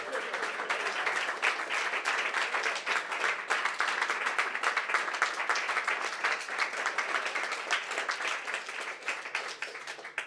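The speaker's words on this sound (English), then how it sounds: "All right, let's get that another round of applause." A conference audience at a Bitcoin hackathon gives a round of applause, a dense, sustained clapping that holds steady throughout with no pause.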